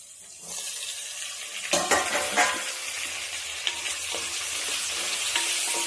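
Tomato sautéing in oil in a pan for mutton pepper gravy, a steady close sizzle and hiss with occasional stirring scrapes and bumps, continuous throughout without any talking.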